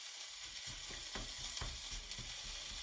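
Celeriac and onions cook slowly in a deco pan with no oil, giving a quiet, steady sizzle with occasional soft stirring scrapes, close and without talk.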